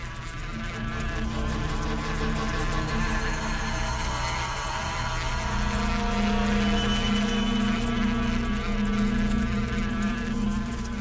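Bees swarm around a beehive in a crime drama scene. A dense, continuous buzzing drone fills the scene loudly and evenly, with no speech.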